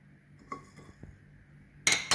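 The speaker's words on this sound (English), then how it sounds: "So now I'm going to add the coriander seeds" Coriander seeds tipped into a hot pan for dry-roasting spices for Goan crab xacuti: a few light metallic clinks, then a sudden loud, bright rattling patter of seeds hitting the pan near the end.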